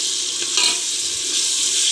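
Masala of tomato, onion and red chilli powder frying in oil in a pan, a steady bright sizzle close by with a brief louder crackle partway through, no talking.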